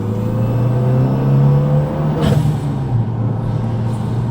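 Renault Megane RS RB8 driven at full throttle outside sports mode, its engine a loud, steady, rising drone that holds close and continuous for several seconds, with no talk.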